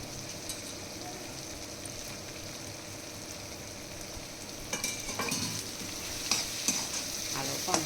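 Curry leaves for a fish curry fry in a hot pan with a steady, close sizzle, joined by occasional scraping and stirring clicks of a utensil, with no voices.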